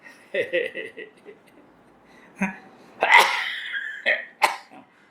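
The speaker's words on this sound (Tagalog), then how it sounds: "Nagsugod na po og ubo" A series of harsh coughs bursts out close by, irregularly spaced, with some throat-clearing between them.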